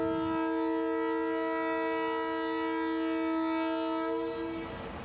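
A Karachi Circular Railway train at Cantt station sounds a long, loud, steady horn blast that holds for about four seconds before cutting off, with the train rumbling underneath.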